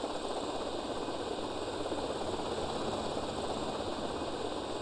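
Steady whirring rotor and engine drone of a small RC helicopter in GTA Vice City, holding level and loud throughout with no talk over it.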